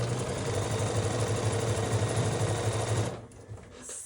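Sewing machine running steadily while stitching quilt fabric, a loud, continuous mechanical whir with rapid needle rhythm for about three seconds before stopping abruptly, leaving a quieter tail.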